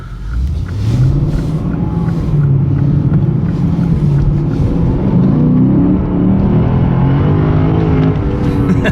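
A warmed-up Lexus RC-F Track Edition in sport mode revs while driving, its engine note climbing and falling in a loud, close, sustained drone across the whole stretch, with no talking.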